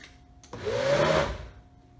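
A blender briefly whirs through a tofu chocolate cream pie mixture, spinning up with a rising whine, holding a loud churning roar for about a second, then winding down.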